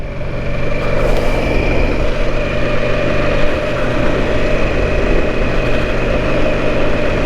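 A Harley-Davidson Nightster 975 motorcycle with the Revolution Max engine runs loud and close, a steady deep engine rumble held at an even level throughout with no voices.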